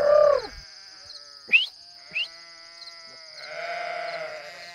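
A sheep in the shade of a forest pasture gives one loud bleat at the start, followed by a few short chirps and a faint, wavering bleat far off in a quiet outdoor setting.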